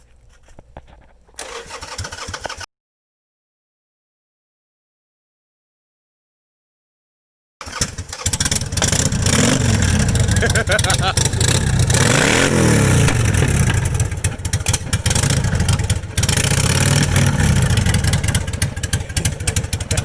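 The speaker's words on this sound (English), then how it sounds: "Wait, start it up. I want to hear it." A Harley-Davidson Sportster motorcycle engine fires up after a silent gap, then runs loud and close with throttle blips and revving, a steady rumble filling the rest of the clip.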